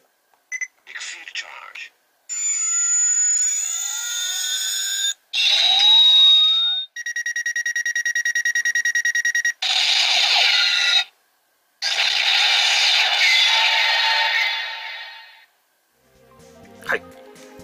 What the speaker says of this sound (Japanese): エクシードチャージってやったときにピピピピピって音が鳴って